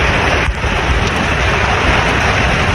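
Powerful typhoon gusts and driving rain in Bicol, a loud, unbroken roaring rush with no voices.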